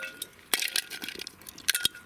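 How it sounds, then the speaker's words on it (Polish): Chocolate breaks apart in a few sharp, near cracks and snaps, scattered clicks between them, fairly quiet and with no talking. "Rozbijamy czekoladę."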